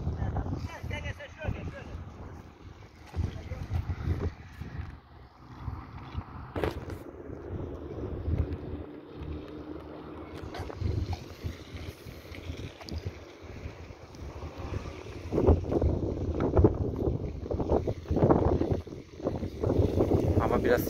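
Wind gusting outdoors on a warm day in Ağrı, rumbling against the microphone and swelling stronger toward the end, with a voice talking at times.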